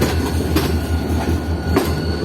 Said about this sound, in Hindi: एसएलसी का लोकोमोटिव और उसके पीछे RGE 24